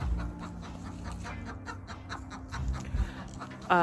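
A hen laying an egg gives low, repeated clucks and breathy pants close by, ending with a brief louder squawk.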